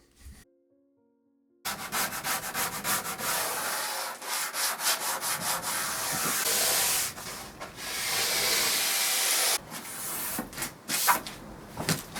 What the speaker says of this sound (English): The Delta head on my Festool sander is absolutely perfect for these little intricate bits